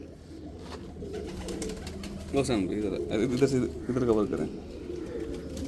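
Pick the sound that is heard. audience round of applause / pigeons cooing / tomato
pigeons cooing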